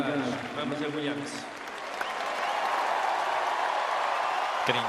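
Crowd noise at Roland Garros during the 2016 French Open women's final, a sustained roar and applause swelling under faint commentary, dense and fairly loud throughout with a brief sharp knock near the end.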